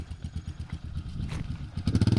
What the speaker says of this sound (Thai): ตัวนี้เครื่องยนต์นะครับ ตัวแท้สองร้อยเนี่ยเครื่องยนต์ร้อยเก้าสิบเก้าซีซีไม่อืด